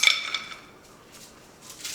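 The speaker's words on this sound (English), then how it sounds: "we're going to take a glass pie pan and put a cup of blueberries" A cup of blueberries goes into a glass pie pan, starting with a bright clinking rattle that fades into softer tumbling and settling noises, close and fairly loud, with no talking.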